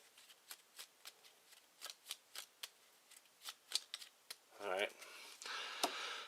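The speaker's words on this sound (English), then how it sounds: "we have to shuffle up this deck real quick since we searched through it" A deck of Arkham Horror board game cards is riffled and shuffled at close range, a string of quick soft snaps and flutters building into a longer bridging rush near the end.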